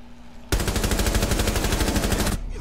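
A single sustained burst of rapid automatic gunfire in Rainbow Six Siege, loud and close, with evenly spaced shots for about two seconds before cutting off.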